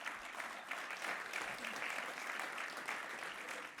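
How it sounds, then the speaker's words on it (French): Sustained applause from an audience at a sports awards ceremony, a dense, even wash of many hands clapping that holds steady throughout at moderate distance, without voices. "Un tonnerre d'applaudissements, Carlos Zalduendo."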